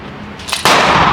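A single sharp gunshot from a PSA Dagger Micro pistol at a range, cracking loudly and close after a brief quieter rustle, with the blast ringing out to the end.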